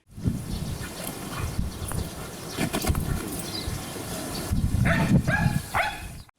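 A service dog searching bags for explosives barks a few times amid a busy, noisy background, the barks short and moderately close.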